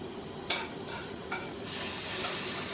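Apples dropped into a hot frying pan give two soft thuds, then a steady bright sizzle that builds and holds through the end.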